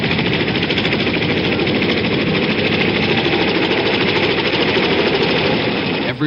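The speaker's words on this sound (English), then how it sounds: "More than 80 helicopters shuttling people out to the carriers." Military evacuation helicopters shuttle people out during the 1975 fall of Saigon, a loud, continuous rhythmic rotor chop and engine roar filling the scene from nearby.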